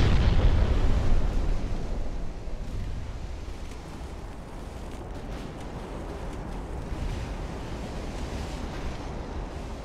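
Distant shell explosions from a naval battle in Ultimate Admiral: Dreadnoughts, a game setting with a light cruiser facing battleships, heard as a loud booming burst at the start that fades into a continuous rumbling, surf-like roar.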